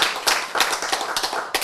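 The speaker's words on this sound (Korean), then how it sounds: "박수 한번 칩시다" A lecture audience claps in a quick burst of irregular, fairly loud hand claps lasting under two seconds, close and without talking.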